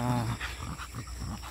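An exotic bully dog out on a walk, heard close with a short growly grumble and breathy panting sounds over quiet outdoor background.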